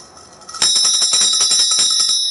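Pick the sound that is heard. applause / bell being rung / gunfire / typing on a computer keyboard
bell being rung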